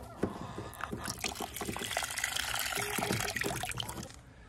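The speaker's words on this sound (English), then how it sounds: "All right, fresh water." Fresh water pours and trickles into a chicken waterer, a soft, steady splashing stream that runs for several seconds and then tapers off.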